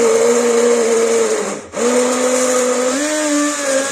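A blender motor whirs steadily at close range, grinding cream and spices, briefly cutting out and restarting, then grinding on with a slightly shifting pitch.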